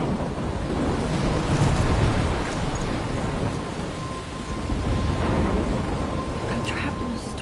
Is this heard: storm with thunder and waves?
yes